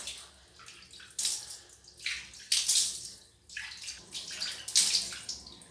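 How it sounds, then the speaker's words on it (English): Running water splashes over skin as aloe vera is rinsed off, coming in uneven close bursts of pouring and trickling with quieter gaps between, and no voices. "so you wash it off"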